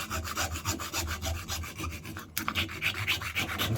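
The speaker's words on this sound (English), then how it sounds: "It's been a hacksaw. It's capable of cutting through." A hacksaw cuts in rapid back-and-forth strokes, roughly four strokes a second, with rasping, rhythmic bursts, close and unaccompanied, and a brief hitch midway before sawing resumes.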